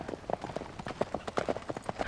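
Horses walk on a ranch with an uneven, overlapping clip-clop of hooves. The steps are quiet and a little distant, and no one speaks.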